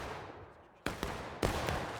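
Heavy musket gunfire in the Civil War battle game War of Rights: two sharp, distant-sounding volleys about half a second apart rise out of a quiet background.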